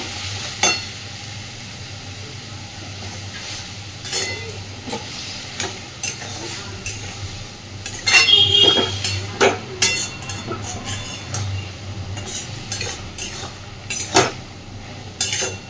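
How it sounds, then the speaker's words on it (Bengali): Mustard paste and spices stirred with a little water in a pan, a steady low sizzle beneath repeated scraping and clinking of a spoon against the pan, close and busy, with a louder burst of stirring midway and no voices. "খুব ভালোভাবে সব কিছুকে মিশিয়ে দেব"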